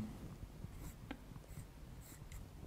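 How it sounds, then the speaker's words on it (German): Pen or chalk scratching out a conditional probability formula by hand, soft intermittent strokes and taps, faint and close, with no talking. "Ich schreibe sie nochmal hin."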